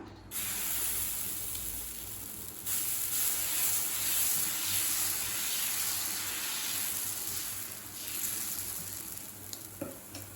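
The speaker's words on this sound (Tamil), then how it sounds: "இப்போ கல் சூடாகிடுச்சுங்க. நம்ம தோசை ஊற்றிக்கலாம்." Adai dosa batter poured onto a hot griddle, giving a steady, close, bright sizzle that swells after a couple of seconds and crackles on without a break, with no talk.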